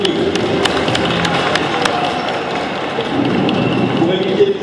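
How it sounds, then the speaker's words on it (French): An audience at a pet show ring claps and cheers steadily as animals leave the ring, with a crowd murmur underneath and talk over the top. "merci aux autres qui ont quitté le ring sous vos applaudissements"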